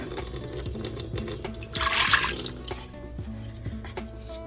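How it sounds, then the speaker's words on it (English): Water runs briefly into a container, a short splashy pour rising and then stopping, with faint kitchen clatter around it. "I'm gonna put a cup of water"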